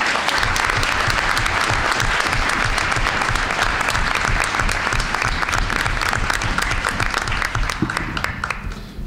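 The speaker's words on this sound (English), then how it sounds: "So please give a big round of applause" Sustained audience applause fills a board of education meeting room, dense and steady clapping from many people throughout, easing slightly at the very end.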